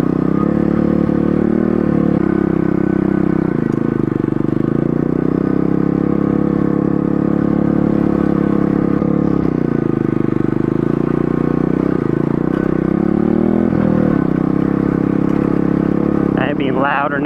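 A pit bike's engine drones loudly and continuously while riding off-road, its pitch rising and falling with throttle changes over rough ground.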